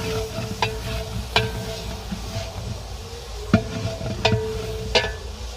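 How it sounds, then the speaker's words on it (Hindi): A spoon stirs raw potatoes in a large cooking pot for a village-style chana pulao, with sharp scraping knocks at irregular intervals over a low sizzle, close and fairly loud, no talking. "तो मैं अच्छी तरह पहले मिक्स कर लेती हूँ।"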